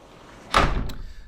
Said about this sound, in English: that's how you pull the door closed